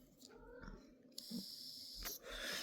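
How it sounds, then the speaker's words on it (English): Cat behind a shut bedroom door wanting to be let in: faint, muffled meows and scratching or bumping sounds come in short bursts, with quiet room noise between them. "My cat wants in the bedroom and I have the door shut."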